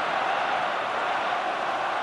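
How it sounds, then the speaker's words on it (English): A stadium crowd at a Champions League match involving Manchester City, heard as a steady, broad roar of applause and cheering from the stands, loud and unbroken throughout with no distinct individual voices. "Applause all around the ground"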